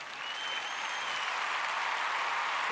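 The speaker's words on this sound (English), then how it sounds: "We need that applause sound effect." Steady applause from a crowd, continuous clapping that swells slightly and holds at an even level throughout.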